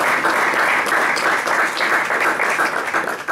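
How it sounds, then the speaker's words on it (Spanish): Dense applause from an audience at a gallery event in Sucre, loud and continuous, with many hands clapping together close by. "Fuertes los aplausos para el camino."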